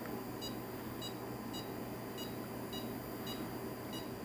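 Each press of a button on a repaired mobile phone keypad gives a short electronic beep, seven or eight evenly spaced beeps over a steady background hiss, with no talking.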